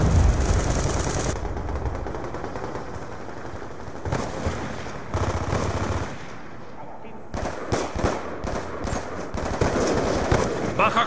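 Call of Duty Black Ops 2 multiplayer on Wii U, with repeated bursts of loud automatic gunfire in irregular clusters, broken by brief quieter gaps, with occasional in-game announcer voice between shots.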